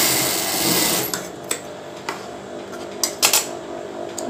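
A sewing machine stitches bra fabric in short bursts, with rapid mechanical whirring and several sharp clicks and thumps as the stitching starts and stops, close and fairly loud with no talking.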